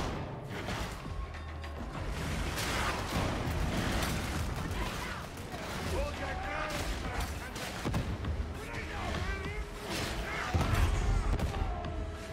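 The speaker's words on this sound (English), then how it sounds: "Explosions everywhere." Dense, continuous battle din from the Warhammer 40k Darktide video game: explosions and gunfire-like blasts pile up over a mechanical clatter, loud and steady throughout, with voices shouting intermittently through the chaos.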